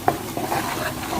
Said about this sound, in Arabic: احنا بنقلب الدقيق علشان خاطر يحمر في السمنة